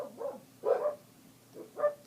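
Dogs bark in three separate bursts at moderate distance, each a short yappy cluster of woofs, with quiet gaps between them and no talk over the top.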